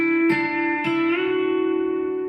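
Electric guitar with a B-bender plays a short lick: four plucked notes, the fourth bent upward and held as a sustained, ringing tone that slowly decays, loud and close with no talking.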